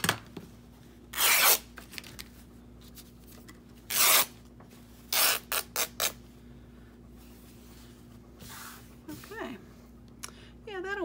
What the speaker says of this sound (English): I'm gonna go ahead and rip these fabrics to get enough